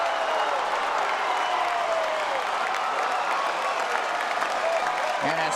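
Standing-room-only stadium crowd at the finish of the women's 100m at the 2015 NCAA outdoor track and field championships, a dense, sustained roar and applause that holds loud and steady throughout, with a voice talking over it.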